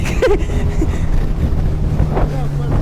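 A motorboat speeds across a lake, engine droning under heavy wind buffeting the microphone, loud and close throughout, with a brief voice or shout at the start.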